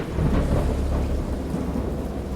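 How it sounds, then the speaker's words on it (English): Heavy rain pours steadily through a thunderstorm, with deep rolling thunder rumbling beneath the dense hiss of the downpour, loud and continuous with no voices. "It's raining pretty hard."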